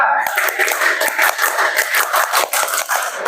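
A classroom group performs rhythmic scout-style clapping (tepuk pramuka) during a micro-teaching economics lesson: dense, steady hand claps fill the whole stretch at close range, with faint voices mixed in.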